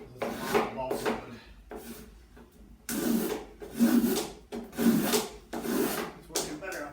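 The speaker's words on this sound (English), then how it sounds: "This is just a wood rasp." A wood rasp filing down a block of balsa wood for a model aircraft windshield, giving repeated close, coarse scraping strokes in bursts, some longer and louder than others.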